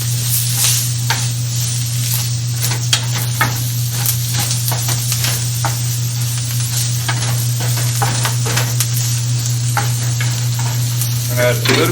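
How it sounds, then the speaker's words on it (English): Onions sizzle steadily in hot oil for a plant-based Egyptian koshary, with frequent stirring scrapes and clicks over a constant low hum, close and fairly loud throughout. "See the onions right here? I'm just gonna dump in the oil."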